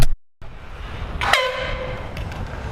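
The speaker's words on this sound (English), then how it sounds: "I got this air horn" A single loud air horn blast sounds close up after a brief silence, a sharp tonal honk that holds steady for over a second before fading into background noise.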